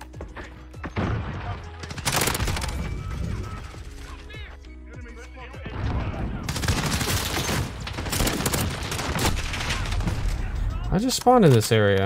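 Gunfire in a shooter video game: bursts of rapid automatic shots and heavier bangs come in waves, loud and close, with someone talking over the action.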